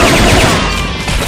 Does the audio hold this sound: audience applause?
no